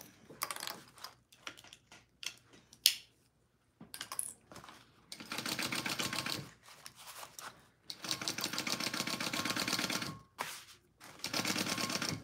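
A sewing machine stitching a seam in a home sewing session, running in several steady whirring bursts of a few seconds each, broken by pauses and lighter clicks and handling noises, close and fairly quiet.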